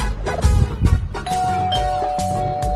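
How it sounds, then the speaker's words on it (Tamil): A doorbell in a home chimes with a sustained ding-dong tone that rings on over steady background noise, with no talking. "அட காலிங் பெல் அடிக்குது."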